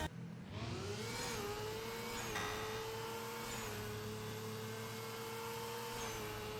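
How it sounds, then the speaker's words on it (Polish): A car engine in the video game Jailbreak (Roblox), the Wedge, starts up and settles into a steady high-pitched whine with small rises and dips, loud and continuous with no talking. "silnik, który ma customowy dźwięk odpalania oraz oczywiście jazdy"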